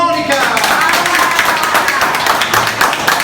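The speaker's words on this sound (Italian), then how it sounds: "Facciamo un applauso a Monica!" Brisk clapping at a bar for the waitress, close and lively, with voices talking and cheering over it.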